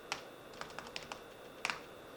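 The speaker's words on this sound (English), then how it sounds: "Whenever I'm in here and you hear me typing," Computer keyboard typing, a handful of sparse, light key clicks in an irregular rhythm, close and fairly quiet in a still indoor room, with no voices.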